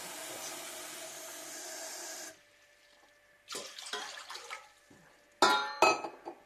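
A cup of water pours steadily into a bowl in a kitchen for about two seconds, then stops and is followed by faint clinks and knocks of cookware.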